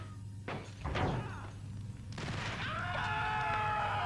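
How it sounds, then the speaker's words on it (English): A weak explosion in Max Payne sounds like a small, dull thump and short burst, followed by a thin ringing tail over game ambience. "That was the most pathetic explosion ever."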